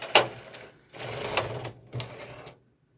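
Carriage of a single-bed knitting machine sliding across to knit one row, a close, busy mechanical clatter in a few bursts that stops abruptly into silence, with no one talking.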